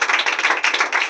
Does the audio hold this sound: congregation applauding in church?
yes